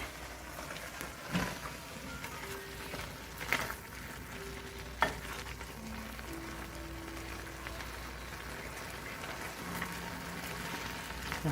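Miyoko butter gets stirred into a sizzling pan: a soft, steady frying hiss at low level, punctuated by a few scraping spoon strokes and one sharp clink.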